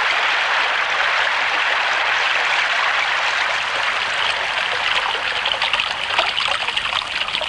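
A waterfall pours in a steady, dense rush of water that holds at an even level for the whole stretch, with no voices over it.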